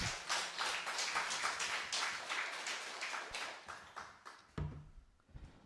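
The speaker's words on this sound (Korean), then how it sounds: "하늘 부모님과 천지천부님께 감사의 박수 올려드리겠습니다" A congregation at a family worship service claps in thanks, brisk rapid clapping from many hands that holds steady, then breaks into a few scattered final claps and thumps.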